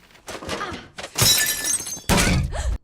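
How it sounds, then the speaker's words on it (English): Glass shatters in a scene from the film Madame Web, heard as a few sharp, loud crashing bursts separated by brief quieter gaps. "Glass always breaks in threes."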